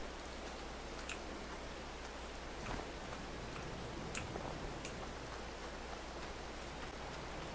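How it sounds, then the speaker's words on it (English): Steady rain hisses across the Edgewater Saskatchewan farm in Farming Simulator 22, a dense even wash with occasional sharper drip ticks, heard alone without talking. "Well, it's only raining."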